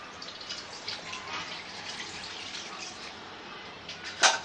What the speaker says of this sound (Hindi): मैं इसमें 2 गिलास पानी ऐड कर रही हूँ।